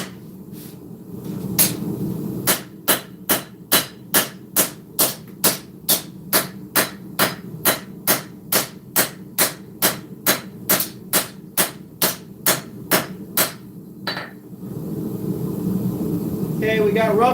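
A heavy hammer of almost 4 pounds pounds a steel sword blade flat on an anvil, about two dozen loud, evenly spaced ringing blows in steady rhythm, with shop noise before and after.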